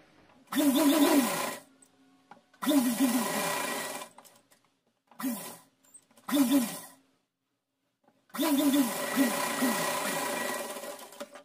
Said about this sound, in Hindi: ये मोड़ करके सिलाई लगा देंगे